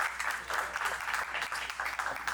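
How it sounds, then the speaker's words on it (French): Audience applause for panel speakers at a round-table event, a steady patter of many hands clapping at moderate volume, fairly close and continuous. "si vous pouvez encore applaudir nos intervenants."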